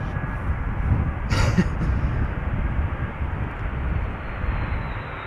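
Surinam Airways Airbus A340 landing at Amsterdam Schiphol Airport, a loud continuous roar of jet engines and rushing air filling the whole clip, heard from nearby with no talk.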